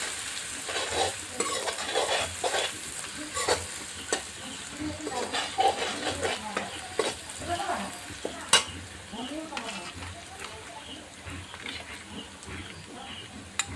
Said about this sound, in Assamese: আদা ৰচুনৰ গোন্ধটো নোযোৱালৈকে ভাজিম।